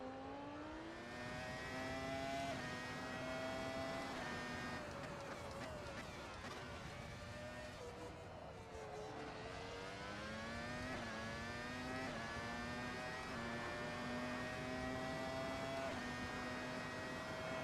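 A 1999 Formula One car engine in the Assetto Corsa racing game screams continuously and up close, its pitch climbing and dropping through repeated gear shifts over a full-throttle lap.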